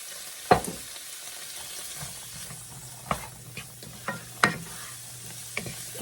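Asparagus frying in a pan for a penne and cannellini bean casserole, a steady hiss of sizzling broken by several sharp scrapes and clacks of stirring spaced irregularly, close by with no talk.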